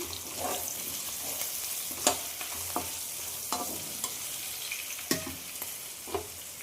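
Ivy gourd slices sizzle softly in a pan with turmeric, while a spoon scrapes and clacks against the metal in irregular stirring strokes, fairly quiet and close, with no talk.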